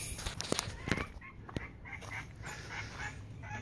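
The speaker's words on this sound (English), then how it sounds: "She's Narragansett turkey." A broody Narragansett turkey hen sits on eggs. Faint, soft clucks and brief calls come from the bird over quiet background noise, with a few sharp clicks early on.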